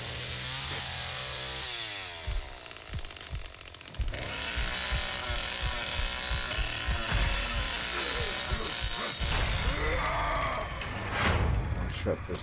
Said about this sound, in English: And then I'll turn my chainsaw on.